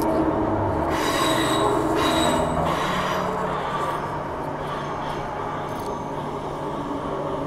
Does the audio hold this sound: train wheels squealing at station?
yes